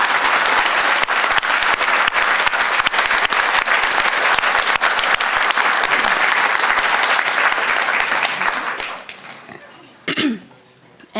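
Commencement crowd applauds the graduates and their families, a long dense roar of clapping that holds steady for about nine seconds, then fades out, leaving a quiet hall with a brief cough near the end.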